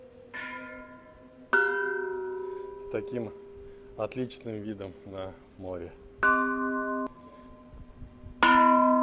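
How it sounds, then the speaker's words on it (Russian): Small bells around a Buddha statue struck one after another with a stick, on Samui by the sea; four clear ringing strikes with long sustained tones, separated by someone speaking between them. "можно тут взять палку и пойти побить по всем колокольчикам"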